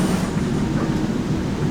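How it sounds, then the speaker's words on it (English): Interior of a local train to Tirano, a steady low rumble and rolling hum throughout, with no voices. "I am on the train to Tirano."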